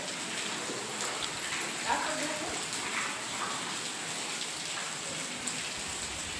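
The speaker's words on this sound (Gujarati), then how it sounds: "બહુ વરસાદ પડ્યો આજ તો પણ જોરદાર" Steady heavy rain patters down across the whole stretch, a dense hiss of drops hitting surfaces, with a few sharper knocks and a faint voice in the background.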